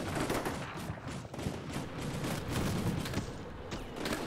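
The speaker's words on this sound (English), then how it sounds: "Oh, see, they're shooting. Somebody's shooting." Dense, continuous gunfire from the PC wargame Combat Mission Shock Force 2, with overlapping rifle and machine-gun bursts forming a steady loud fusillade throughout, no speech.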